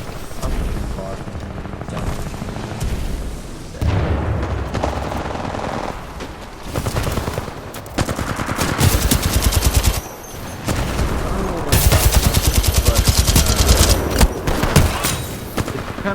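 A gun fires in the video game Titanfall 2 in loud, sustained automatic bursts with short pauses between them, mixed with booms and other game effects, with a voice talking over parts of it.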